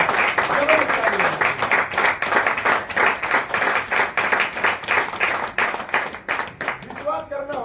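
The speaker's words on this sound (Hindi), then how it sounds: "इसलिए भिखाराम बिश्नोई जी एक जोरदार ताली होती है।" A seminar audience claps loudly for Bhikharam Bishnoi in a rhythmic, fairly even applause with clustered hand claps, lasting several seconds before thinning out, with faint voices near the end.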